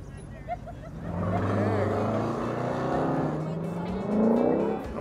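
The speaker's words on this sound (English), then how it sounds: "There's the truck I was talking about." A large truck drives past on a street in Orange County, its engine roar swelling and holding steady before fading slightly, heard close and loud with other traffic in the background.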